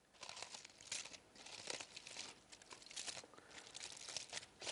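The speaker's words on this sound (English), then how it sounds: "You carefully open the foil and make a nest shape with it around the apple." Hot aluminium foil is opened around a baked apple and shaped into a nest, producing continuous close crinkling and rustling with small crunchy bursts, and no one speaking.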